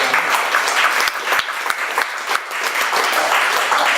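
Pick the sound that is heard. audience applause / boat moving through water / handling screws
audience applause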